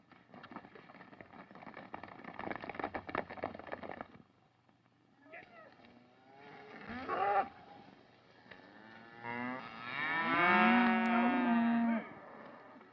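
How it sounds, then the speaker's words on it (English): Cattle moo several times at moderate distance, with a long, loud low bellow near the end over a steady background rumble. "Put the cattle on the bedding ground."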